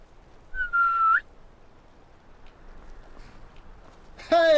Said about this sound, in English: I was going to try out the horse whistle.